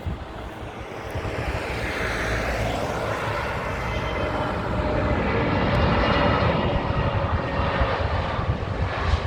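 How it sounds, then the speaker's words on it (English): A British Airways Airbus A320neo passes at London Heathrow, its jet engines a broad rushing roar that builds and swells steadily over the whole stretch, loud and fairly close, with no talking. "Speedbird Airbus by looks of things, and it's an A320."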